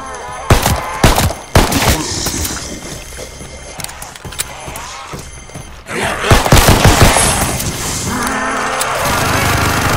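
Sustained minigun fire in a zombies video game, a dense rolling stream of rapid shots running nearly the whole stretch with brief gaps, loud and close, mixed with game effects and occasional voices.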